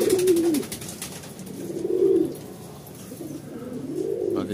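Pigeons cooing in low, rolling phrases that swell and fade several times, close and fairly loud with no talking.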